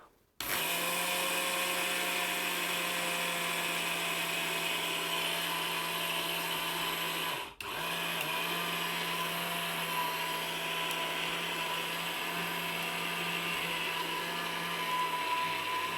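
An ORPAT kitchen blender grinds rice into powder, a loud steady motor whine with dense harsh grinding that runs nearly the whole time, with one brief dip midway before it resumes at full strength.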